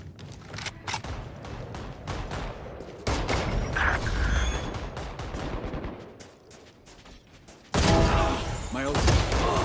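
Bursts of gunfire in Valorant, from sharp single shots to rapid fusillades, sound near and loud at times, with a voice briefly heard between the shots.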